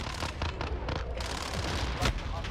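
A Vector submachine gun fires in Modern Warfare, with short sharp bursts and scattered shots over dense battle noise and a louder crack near the end, loud and close.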